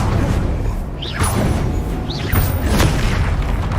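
Expelliarmus spell cast in Hogwarts Legacy, loud booming magical blasts with whooshing swept tones repeating over a dense rumble of combat.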